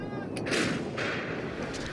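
Gunfire at a war simulation for more than 80 Russian children and teenagers, heard as a couple of sharp bursts over a steady, noisy outdoor background, moderately loud.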